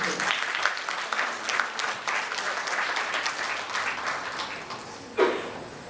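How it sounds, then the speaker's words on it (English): An audience at a sports conclave applauds a medal-winning athlete with a steady round of clapping that sounds somewhat distant and moderate in level, with one sharper knock near the end. "A loud round of applause for him, please."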